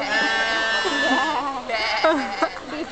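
At a zoo sheep enclosure, a person mimics a sheep with a wavering, quavering bleat held close and loud for a few seconds, a voice imitating the animal rather than a real sheep.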